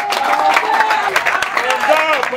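Crowd at a political rally clapping and cheering, a dense wash of applause mixed with voices, loud and close for a short burst.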